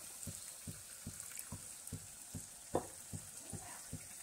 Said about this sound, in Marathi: मिक्सरच्या भांड्यामध्ये पाणी घातलेलं आहे तेच पाणी यात ओतून घेऊ आपण